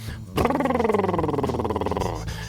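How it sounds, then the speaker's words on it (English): A buzzing, fluttering lip trill with a rapid repeated pulse, voiced and gliding slowly downward in pitch for about two seconds, close and fairly loud. "is we roll our lips. Just like rolling the R"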